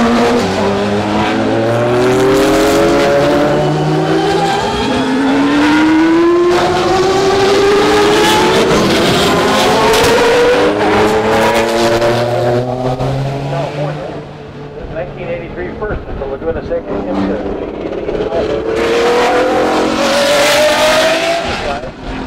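A white 1986 March GTP prototype with a 2.2-liter BMW four-cylinder turbo engine, IMSA GTP racing, roars past loud and close, its revving engine tone rising and falling across the pass over steady commentary.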